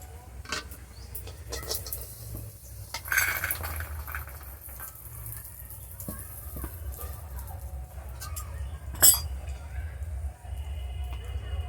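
Faint metal utensils clink sporadically against a wok as fried lentil dumplings are lifted out, scattered sharp taps over a quiet room with crickets droning, and a voice speaks softly now and then.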